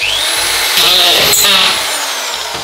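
A screw gun driving a screw into plasterboard, set to a preset depth, gives a loud steady high whine close by, pitch rising briefly under load before the motor stops, with a little low voice underneath.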